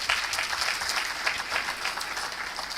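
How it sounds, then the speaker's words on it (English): Delegates at a Nigerian policy conference receive a round of applause, a moderately distant, uneven patter of clapping from the seated audience that continues throughout. "let's give them a big round of applause"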